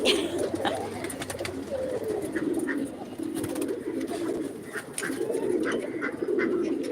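Pigeons coo steadily in soft, repeated low throaty calls close by, forming a continuous murmur throughout with no talking over it.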